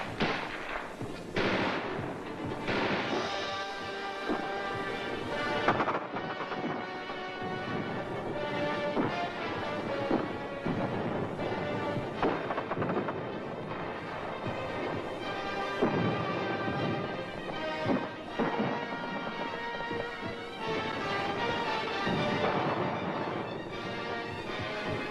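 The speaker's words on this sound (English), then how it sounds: "Gunfire roared in the streets and panic spread throughout the population." Gunfire and explosions in street fighting in South Vietnamese cities during the Vietnam War, in restored archival film, a continuous loud rattle of shots and bangs lasting throughout.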